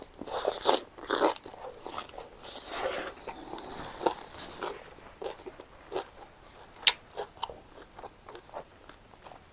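Someone eats Thai spicy cucumber salad with crispy pork, loud close crunches and wet chewing bites repeating in an uneven rhythm with no talking.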